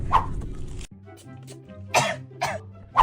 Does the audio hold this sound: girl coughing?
yes